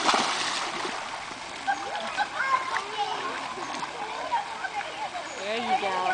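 Water splashes steadily as Duece swims in a backyard pool, with continuous close sloshing and splattering and children's voices and chatter mixed throughout.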